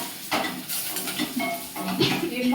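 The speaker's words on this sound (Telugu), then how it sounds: "వీటిని లైట్గా ఫ్రై చేసేసుకోవాలి" Crushed garlic cloves fry lightly in a pan with a soft sizzle, under repeated clinks and scrapes of a utensil stirring against the cookware.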